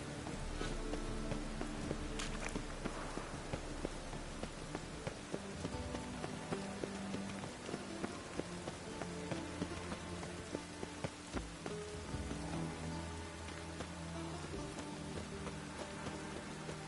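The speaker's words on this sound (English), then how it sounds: "It's raining." Rain falls in The Witcher 3, a steady hiss of drops on surfaces under a soft game soundscape, with a few faint footstep-like taps and no talking.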